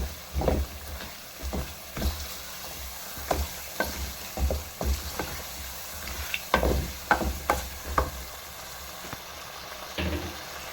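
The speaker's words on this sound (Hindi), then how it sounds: "आलूओं को अच्छी तरह से भूनेंगे।" Potatoes are fried and stirred in a pan for aloo gobi matar sabji, with a spoon scraping in irregular, knocking strokes over a low, steady sizzle, close and fairly quiet.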